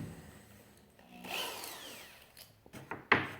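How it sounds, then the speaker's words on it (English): Power drill spinning a bit, likely into wood, while a sled is built outdoors in cold weather: a short whirring burst in the middle, then a louder sharp grinding bite near the end, fairly close. "This drill bit will do."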